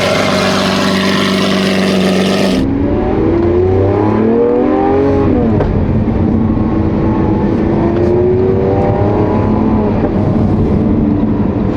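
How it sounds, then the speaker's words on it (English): A supercar engine revs hard several times, each blip sweeping sharply up in pitch and falling back, loud and close after a brief burst of steady roar at the start. "I am going to rev that"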